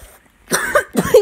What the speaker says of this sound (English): this cough is really contagious